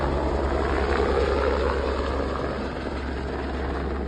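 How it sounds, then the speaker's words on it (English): Department of Homeland Security helicopters fly over an active search area during an Idaho manhunt, giving a steady, loud, unbroken rotor and engine drone that fills the scene from start to end. "Helicopters are inbound."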